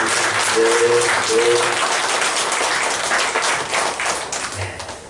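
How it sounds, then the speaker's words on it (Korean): Church congregation at a Sunday worship service applauding together, loud, full clapping from many hands that holds steady, then tapers off toward the end, with faint voices and tones beneath. "우리 한 번 더 목사님께서 축복하며 박수로 감사하겠습니다"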